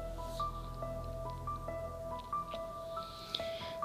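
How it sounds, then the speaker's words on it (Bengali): Flatbread (roti) frying in oil in a home kitchen, giving a steady low sizzle with small wet pops and drips, fairly quiet and continuous, with a faint tonal hum running underneath and no talking. "তাই আমি তেল দিয়েই ভেজে নিচ্ছি।"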